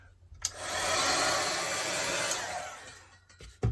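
A heat tool blows steadily while melting clear embossing powder, switching on with a click and holding a loud, even whoosh for about three seconds before cutting off, close to the microphone with no talking.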